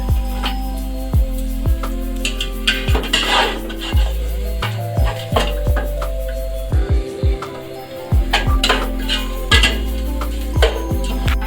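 Black pepper and cumin frying in a pot with cardamom, cinnamon and star anise, heard as repeated metallic scrapes and clinks of a spoon against the pot over a steady low hum, close and moderately loud, without talk.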